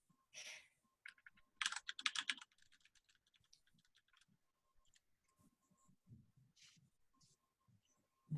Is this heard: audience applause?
no